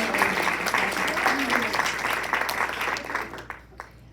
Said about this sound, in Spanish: te doy un aplauso